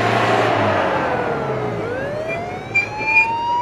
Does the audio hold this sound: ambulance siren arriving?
yes